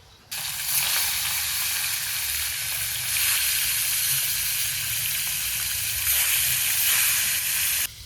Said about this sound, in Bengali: কড়াইয়ের তেল টনটনা গরম হয়ে গেছে এখন মাছগুলো ভাজবো